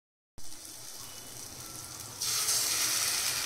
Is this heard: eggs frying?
yes